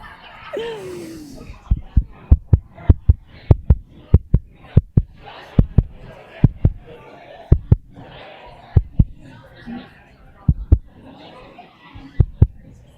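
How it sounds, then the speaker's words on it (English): A racing heartbeat sound effect plays over a conference room speaker, its deep thumps coming in quick pairs at a steady, fast rhythm, with a low murmur of the room and a brief voice near the start. "that was my heartbeat racing because that was super awesome"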